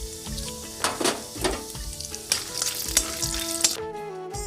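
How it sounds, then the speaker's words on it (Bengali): Peanuts fry in hot oil for an upma breakfast, giving a steady sizzle with scattered crackles and a few clinks of a spatula against the pan, close and fairly loud, ending in a sudden quiet. "তেলটা গরম হয়ে গেলে পরে এই বাদামগুলো ভেজে তুলে রাখবো।"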